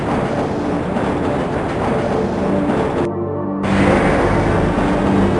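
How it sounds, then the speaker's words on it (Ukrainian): Rail transit in the video game Half-Life: a steady, loud rumble of a moving train with rhythmic clatter, continuing throughout with a brief dip before resuming slightly louder, no voices. "Цей потяг вирушає із зони номер 3 гуртожитки для персоналу та прямує до сектору Сі"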